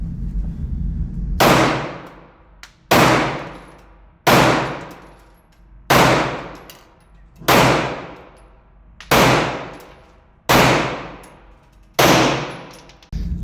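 Eight evenly spaced, loud, sharp gunshots from CZ SP-01 pistols at an indoor shooting range, each followed by a short ringing decay, with no talking between shots.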